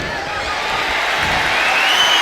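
A wrestling-arena crowd in WWE 2K25 cheers and roars steadily, a dense wash of voices swelling slightly louder over two seconds, with no clear speech on top.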